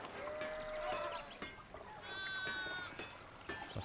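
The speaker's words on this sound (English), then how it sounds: "This place is overrun with sheep." Sheep bleat repeatedly in the medieval video game Pentiment, several wavering cries overlapping from a nearby flock, with faint clicks between calls and no voices.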